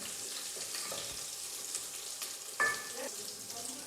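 Ginger garlic paste sizzles steadily in hot oil for coriander pulao, a continuous close frying hiss with a few soft stirring scrapes and one brief louder clatter.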